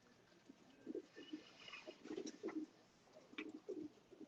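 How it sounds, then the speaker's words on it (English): Racing pigeons cooing in a loft, several soft low throaty coos in irregular bursts, faint and close, with no talking over them. "I hear the cooing, and I'm seeing the birds are not overly going crazy"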